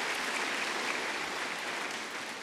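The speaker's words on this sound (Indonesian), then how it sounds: "Ya kita bantulah tepuk tangan." A church congregation applauding during a Sunday homily: dense, even clapping from many hands, steady and fairly distant throughout, with no talk over it.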